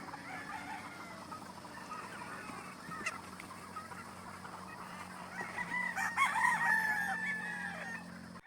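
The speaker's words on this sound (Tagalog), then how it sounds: "Yan yung aming black cockerel na cat survivor." A black cockerel crows near the end while chickens cluck and squawk around it, with goose-like honks and a scattered barnyard chorus building from a busy background at a game farm.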